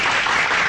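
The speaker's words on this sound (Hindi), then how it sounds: "बजाओ ताली।" A dense burst of crowd applause with steady, continuous clapping throughout, loud and close, with no speech over it.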